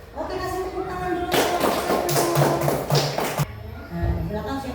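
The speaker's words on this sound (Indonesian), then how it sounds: "kasih tepuk tangan dulu" Children clap their hands together in a classroom, a burst of dense, overlapping claps lasting about two seconds, loud and close, with a teacher's voice talking before and after.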